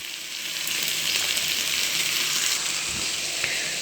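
Spices with turmeric and salt sizzle steadily in hot oil for a mackerel curry, a loud, even frying hiss that holds throughout with no talking.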